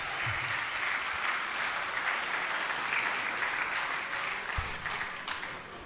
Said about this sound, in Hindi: अब एक बार तालियां बजा दिए ताकि मैं सांस ले लूं